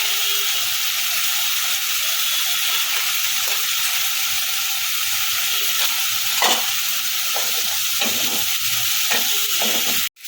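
Salted potatoes sautéed and stirred in a pan for a Bengali potato curry, giving a dense, steady sizzle with a few scrapes and knocks from the spatula, loud and close throughout before cutting off abruptly at the end.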